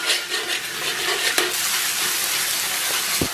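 Scallions and a spoonful of Lameizi chili sauce hiss and sizzle steadily in hot oil in a wok, with the scrape of stirring and a couple of light clinks, close and continuous, without speech.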